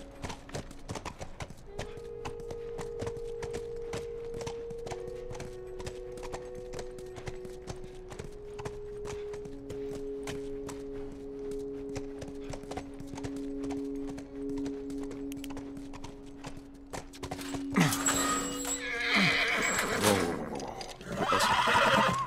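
A horse in The Last of Us walks with a steady clip-clop of hooves under a low musical drone, then lets out a loud, shaky whinny near the end, followed by snorting and stamping close by.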